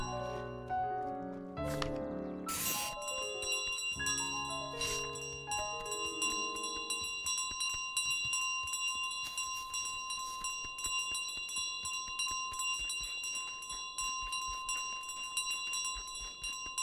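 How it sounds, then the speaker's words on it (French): A bell rings out in Untitled Goose Game, a sequence of clear tonal strikes up front followed by a long, steady ringing that lingers with sustained overtones throughout, fairly loud with no talk over it. "Oh, très bien cette cloche."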